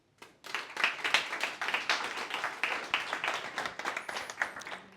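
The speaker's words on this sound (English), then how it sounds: "please give him a round of applause" A modest audience applauds a speaker before a talk, individual claps distinct and irregular, building quickly and continuing steadily at moderate volume.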